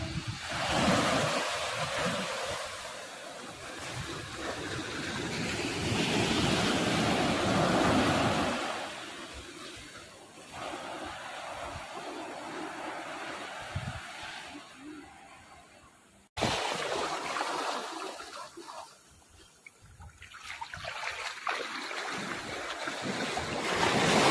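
Sea waves roll onto a sandy beach in a long, broad wash of surf, swelling and fading with gusts of wind buffeting the microphone.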